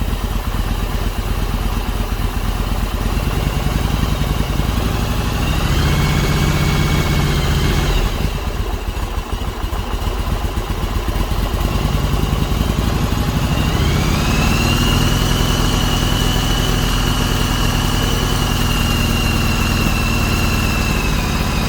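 A Yamaha Virago 1100 motorcycle engine idles loudly and steadily nearby after a revival, its pitch rising a little midway as the idle is turned up, with no talk.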